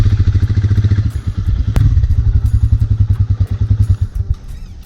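Royal Enfield Himalayan motorcycle on a dirt park track, a loud close engine with a fast rhythmic pulsing exhaust beat, some clattering and a brief thump, easing off near the end.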